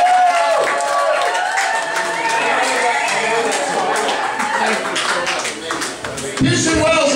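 A comedy club audience claps and cheers for a stand-up comedian, with loud, dense clapping that runs on throughout and a voice talking over it.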